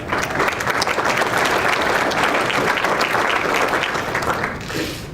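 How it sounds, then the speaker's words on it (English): An audience at a nonprofit conference gives a dense, steady round of applause that stays loud throughout and starts to thin out in the final second. "we should all give everyone who's been involved another round of applause"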